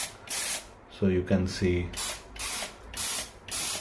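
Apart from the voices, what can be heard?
bathroom bidet jet spray spraying water from three holes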